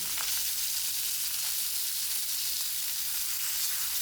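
Vatta fish frying in oil in a pan, a steady bright hiss and crackle that holds at an even level throughout, close and alone with no talking.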